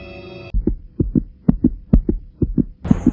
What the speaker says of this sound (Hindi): एक दिल के धड़कन तेज हो गई